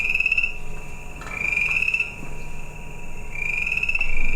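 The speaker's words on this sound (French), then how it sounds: "Je vais vous faire entendre la rainette faux-grillon." Boreal chorus frogs trill in a steady series of rising, rasping pulses that repeat across the recording, with more than one frog calling and one nearer and louder than the other, over faint background noise.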